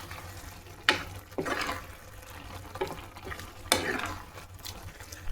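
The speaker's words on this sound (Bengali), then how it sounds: "গুড়টা দিয়ে আবারও ভালো করে নেড়ে দেবো, যাতে তলাটা না কোনোভাবে পুড়ে যায়।" Carrot halwa with jaggery gets stirred in a pan, a spoon scraping and sloshing through the thick mixture in several uneven strokes over a soft background sizzle, close and moderately loud.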